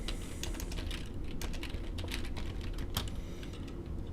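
Typing on a computer keyboard, a quick irregular run of close, crisp key clicks over a low background hum.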